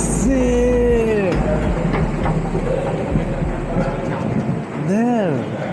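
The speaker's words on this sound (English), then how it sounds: "how excited I was to ride this train" A passenger train rolls along the rails with a steady low rumble and rattle, gliding whistle-like tones rising and falling over it, while a voice speaks over the noise.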